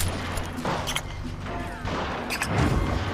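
Quick bursts of Western-style gunfire in Call of Juarez: Gunslinger, several sharp shots cracking in close succession over a noisy, rumbling background.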